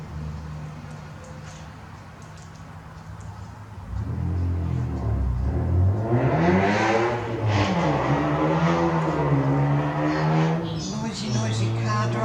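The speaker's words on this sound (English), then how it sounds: "Noisy car drivers." A car engine approaches and revs loudly nearby, its pitch rising and falling as it passes, then fading into a lower hum.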